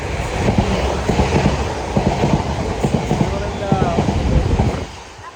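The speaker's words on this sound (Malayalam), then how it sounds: "ഈ ട്രെയിൻ നമ്മളതല്ല കേട്ടോ, നേരെ പോയി ഭയങ്കര സ്പീഡിലാണ്." A train rumbles past close by with rhythmic clacking wheels and a rising roar, loud and continuous before fading at the end.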